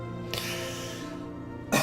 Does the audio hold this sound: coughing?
yes